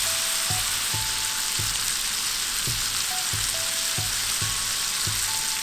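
Prawns fry in a hot pan for a tandoori prawn dish, a continuous bright sizzle close by, broken by regular soft ticks and pops throughout.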